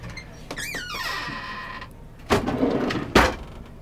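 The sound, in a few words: dish drawer being opened in a camper van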